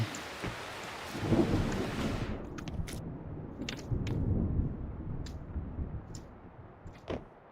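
Heavy rain pours steadily in the SCUM video game, with deep rolling thunder rumbling through and a few sharp cracks near the end.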